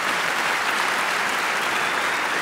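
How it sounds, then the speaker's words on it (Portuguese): A packed stand-up comedy crowd applauding a performer, heard as a thick, continuous wash of clapping at a steady level throughout, with no voices over it. "Salva de palmas para o Ruben."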